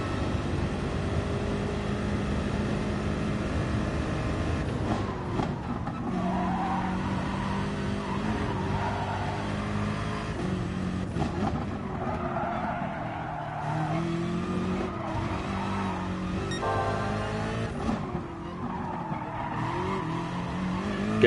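A BMW M6 race car in a racing video game practising on the Nordschleife, its engine droning and revving steadily with gear changes. Bursts of tire squeal come through on hard cornering and braking.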